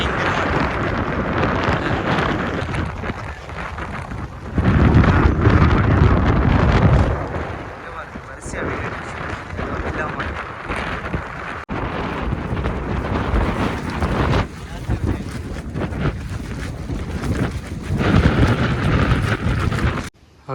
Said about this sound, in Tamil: காற்று பயங்கரமாக